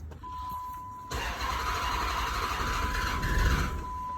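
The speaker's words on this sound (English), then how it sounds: "Let's try the starter." An SRT8 Dodge Charger's starter cranks the engine in one continuous, close, grinding whir that follows a brief quiet moment, and the engine does not catch.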